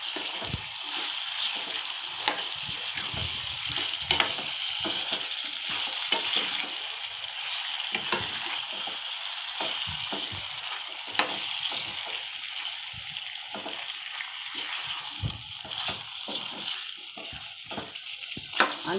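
Spicy eggplant and chicken sizzle and fry in a pan while being stirred, a steady hiss broken by repeated scraping and clattering strokes, close and fairly quiet with no talking.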